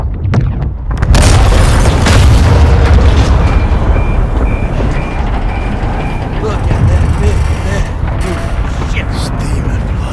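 A missile explosion destroys an oil rig in Call of Duty Modern Warfare 2, with a sudden loud boom that turns into a long, heavy roar and rumble. Voices and radio chatter sit under the blast.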